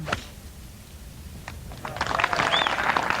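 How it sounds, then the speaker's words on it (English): Spectators applauding a tee shot at The Open golf championship in 1988, scattered claps building into broader distant applause outdoors, with a faint announcer-like voice early on. "you can hear from the applause that it would appear that it's going down the fairway"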